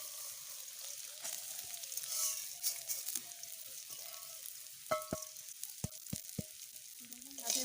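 Snails fry in hot oil, crackling and sizzling softly, with a few sharp clinks and scrapes as they are stirred in the pan.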